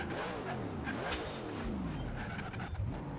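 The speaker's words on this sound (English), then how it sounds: "we're going to slam on the brakes" A Ford GT in Forza Horizon 3 brakes hard from about 100 mph, its engine note dropping and wavering over tire noise, loud and close throughout with no talking.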